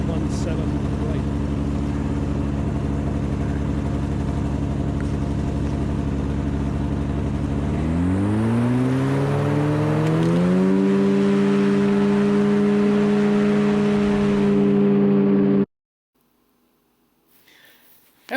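Small airplane taking off from runway 17 right at Cedar Valley, engine roaring steadily at full power through the takeoff roll and rising in pitch as it accelerates, heard loud from the cockpit before cutting off abruptly.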